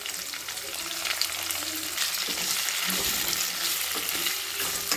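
Green chillies and tomatoes sautéing in oil for a mackerel-style fish curry, a continuous sizzle with stirring and clinking of the spoon against the pan, no talking.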